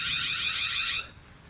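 A Tapo C520WS outdoor pan/tilt security camera sounds its motion alarm: a loud, steady electronic siren tone held for about a second, then cutting off abruptly into quiet background.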